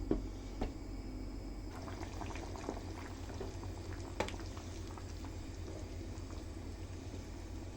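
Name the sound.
whole wheat pasta boiling in a lidded pot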